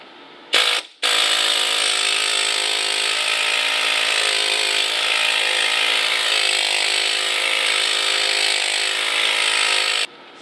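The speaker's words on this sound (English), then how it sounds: "I'm going to try some of these cutting blades on the air hammer" An air hammer with a cutting blade, used on a thick tire sidewall, fires in a loud, continuous buzzing rattle after a brief start, running steadily for several seconds before cutting off.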